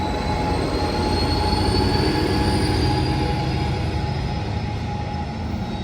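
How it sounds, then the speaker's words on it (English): An Amtrak Capital Corridor train hauled by a Siemens SC44 Charger locomotive pulls out of Berkeley station, a steady loud rumble of rolling wheels with thin, sustained wheel squeal running throughout. "Alright folks, that train is off to Sacramento."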